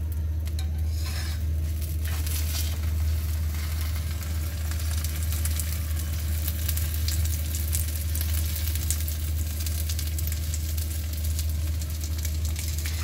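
Aloo paratha frying in a generous spoonful of ghee on a hot pan, Punjabi style, giving a steady, close crackling sizzle that holds evenly throughout over a low constant hum.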